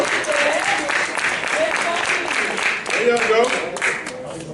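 An audience claps for a team at a community gathering, a sustained wash of applause with voices talking and calling out over it, dipping briefly before picking up again.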